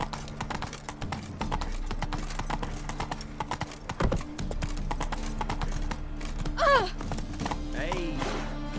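Hooves of the horse Roach clip-clop in a steady galloping rhythm in the video game The Witcher 3, with a short whinny partway through and a low background drone.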